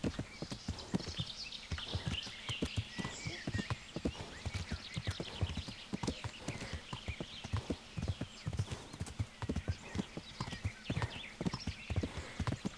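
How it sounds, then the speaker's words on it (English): A horse gallops in the medieval video game Kingdom Come: Deliverance, with steady, rapid hoofbeats clip-clopping continuously at moderate loudness and an occasional faint snort or whinny. "This horse can gallop for years."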